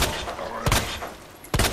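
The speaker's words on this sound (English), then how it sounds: "Can you shoot him through the boards?" Gunfire in the video game Resident Evil 2: three sharp, loud shots spaced unevenly over under two seconds, each a sudden broadband crack with a short tail.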